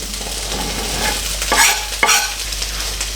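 Diced potato frying in a pan for Spanish shrimp stew, giving a close, continuous sizzle broken by two sharp spatula scrapes midway.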